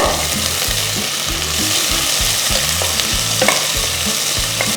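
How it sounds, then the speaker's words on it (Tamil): Sliced small shallots fry in oil in a pan for a tomato kadayal, giving a loud, steady sizzle with a rhythmic low rumble of stirring underneath and occasional light pops, with no voices. "இப்போ நான் இதில் வந்து இருபது சின்ன வெங்காயம் இந்த மாதிரி ஸ்லைஸ் பண்ணி சேர்க்குறேன்"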